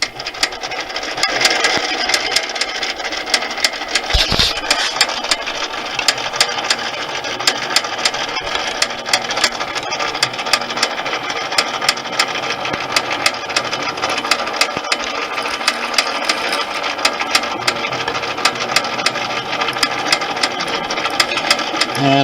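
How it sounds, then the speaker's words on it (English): A straight reamer being run through a drilled 1/8 inch hole in a steel bolt on a running machine, a steady mechanical whir with fine rapid rattling, close and continuous, without talk. "it will now be reamed out to the 1/8 inch diameter with a straight reamer"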